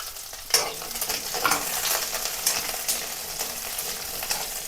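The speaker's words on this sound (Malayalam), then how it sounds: "എണ്ണയിലേക്ക് തന്നെ നമുക്ക് ആ വെളുത്തുള്ളിയും ചെറിയുള്ളിയും ഒന്നിട്ട് വഴറ്റിയെടുക്കാം" Garlic and shallots sauté in hot oil for a simple onion chutney, a continuous close sizzle broken by the scrape and clatter of stirring, with no talking.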